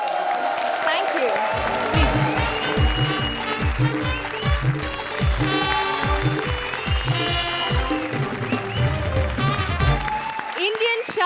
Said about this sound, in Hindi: एक बार फिर तालियां पारुल और मस्की के लिए